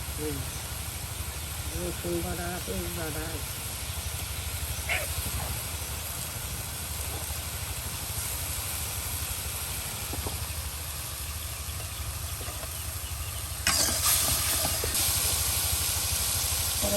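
Ground spices and salt sizzle as they are sautéed together in a pan while a shrimp curry is cooked. A steady, close hiss runs throughout and grows louder near the end, with faint voices in the background.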